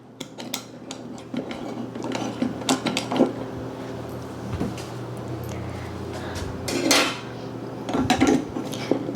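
Parts of an O.M.R.A. manual tomato machine are fitted and clamped together up close: scattered metallic clanks, creaks and light ticking against a low steady hum.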